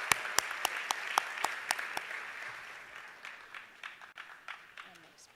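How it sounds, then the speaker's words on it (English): Audience applause at a commencement ceremony, opening with a few sharp, distinct hand claps that blend into a softer, fading round of clapping heard from a distance. "A round of applause"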